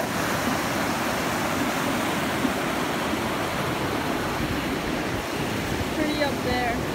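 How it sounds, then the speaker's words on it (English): Small waterfall beside a New Hampshire hiking trail, a steady broadband rush of falling water filling the clip with even, unbroken noise at moderate level, with no clear speech over it. "I was told this waterfall was beautiful."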